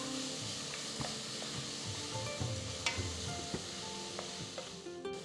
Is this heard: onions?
yes